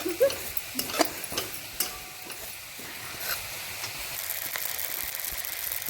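Poppy seeds roast in a dry pan with a soft, steady crackle and a few light scrapes of stirring, quiet and close, with no voices.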